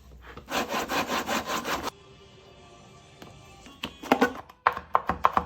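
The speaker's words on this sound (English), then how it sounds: "So I'm about to get ready and grate these" Carrots grated by hand, a rapid run of about eight rhythmic rasping strokes up close, followed by a quieter pause and then several sharper scraping bursts and knocks.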